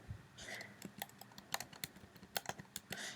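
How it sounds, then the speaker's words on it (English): Close, sharp keyboard presses on a computer's arrow keys, tapped in an irregular run of single clicks and short bursts at low level, with no one speaking. "you can use the arrow keys to move them around and make them sit on it better"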